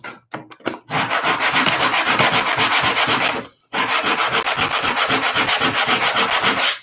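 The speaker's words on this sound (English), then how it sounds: "That needs some sanding though" Steady, rhythmic sanding on wood, a few short scrapes and then long continuous back-and-forth strokes with a brief pause midway, close and loud.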